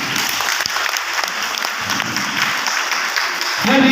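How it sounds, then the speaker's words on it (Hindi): Loud, dense applause from a seminar audience of Diamond Club business members, sustained throughout with a few sharper claps and a brief surge at the very end. "एक बार डायमंड क्लब वालों ने जबरदस्त तालियां"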